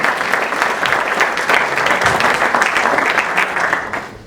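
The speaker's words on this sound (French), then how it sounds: "on peut les applaudir parce qu'elles ont fait un super boulot." An audience at a festival opening evening claps steadily, a dense wash of applause from a roomful of people that holds level for several seconds, loud and close.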